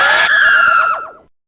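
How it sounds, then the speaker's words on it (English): ReDead zombie scream from Zelda: Ocarina of Time, a loud, harsh, shrill shriek that holds steady and then warbles and drops away into silence, alone with no talk. "That damn scream still sends shivers down my spine."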